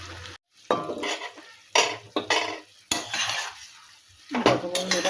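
Mixed vegetables including beans, potato and plantain stirred in a pan with a metal spatula: repeated scraping clanks in bursts separated by short pauses, over a light sizzle, with no speech.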